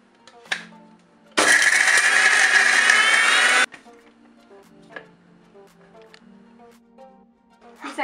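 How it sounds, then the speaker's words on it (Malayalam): A kitchen mixer grinder runs loud and steady for about two seconds, blending curry leaves, cashews and coriander into a masala paste, framed by small clinks and handling sounds before and after. "ഇതെല്ലാം കൂടെ നമുക്കൊന്ന് അരച്ചൊരു പേസ്റ്റാക്കി എടുക്കാം"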